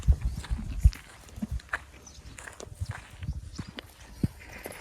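A horse's hooves clip-clop on the ground in an outdoor farm setting, a few heavier thuds at the start and then irregular, moderately faint steps with soft rustling between them; no one speaks.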